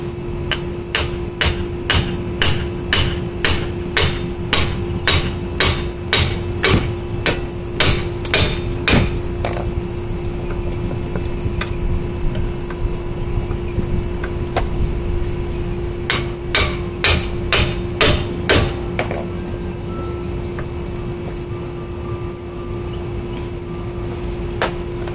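Metal rings out as a ball peen hammer strikes a pickle fork to separate a 2005 Buick LeSabre control arm, two long runs of rapid, ringing strikes separated by a quieter pause.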